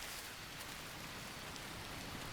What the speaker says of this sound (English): It's raining again, maybe we get a little water.